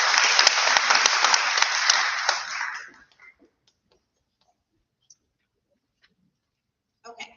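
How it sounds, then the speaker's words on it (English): Audience applause at a high school signing day ceremony, a dense burst of many hands clapping that fades out after about three seconds, then near silence with faint scattered clicks and a brief rustle at the end. "A round of applause is in order."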